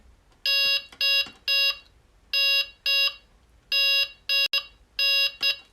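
Electronic beeps from a fishing bite alarm set to a high beep-speed level sound in quick bursts, some long runs and some short, with brief pauses between them, fairly loud and close.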